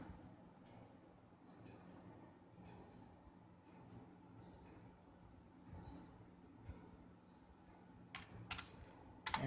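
Computer keyboard keys pressed one after another, Enter and Tab, as light scattered clicks over a low steady hum, with a louder clatter of keystrokes near the end.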